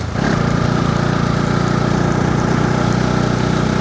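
A motorbike engine labours hard on a steep mountain road, a loud, steady drone close by with a rough low throb and no break, no voices over it.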